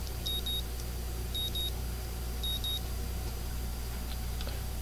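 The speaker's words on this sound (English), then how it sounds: "I wake up to the annoying dim of an alarm clock." An alarm clock in the visual novel Katawa Shoujo beeps in three evenly spaced bursts of thin, high double tones over a steady low background hum, with no voices.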